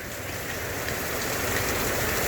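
Steady, heavy rain during a storm at a Myrtle Beach campground, a dense, constant hiss and patter that fills the whole stretch with no breaks and no voices.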